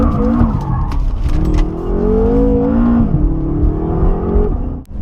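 A BMW M5 F10 sedan accelerating hard, its engine note climbing loud and close through gear changes, with a brief dip near the end and no talking.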